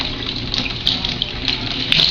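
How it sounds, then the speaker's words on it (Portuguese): A pet bird bathes noisily under splashing tap water, with a steady rushing stream broken by brief splashes and flutters, close and fairly loud. "O Paco tomando seu banho. Bem escandaloso, por sinal."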